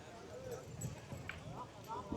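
Horse hooves pound faintly during a tent pegging contest in the UK, a loose galloping rhythm under loud shouting voices and crowd chatter.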